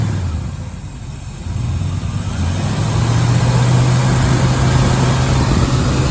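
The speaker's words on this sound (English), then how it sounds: "Dude, that thing is idling." An old abandoned farm truck engine, just revived with a carburetor fix and left in four-wheel drive, idles steadily with a low continuous rumble that grows slightly louder after the first second and holds nearby.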